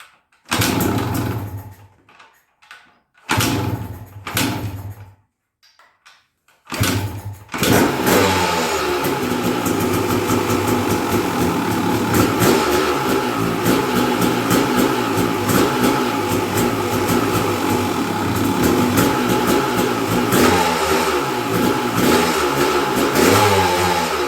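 A 1996 Yamaha WR250Z two-stroke motorcycle sputters through several short bursts and cutouts, then catches and runs steadily with sustained loud revving close by.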